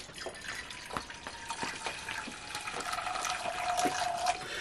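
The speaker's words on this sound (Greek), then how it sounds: "Θα βάλουμε 400 γραμμάρια νερό." Water pours into a cooking pot, 400 grams of hot water measured out as the base for a sugar syrup, a steady close trickling and splashing with small drips running through the whole stretch, no talk over it.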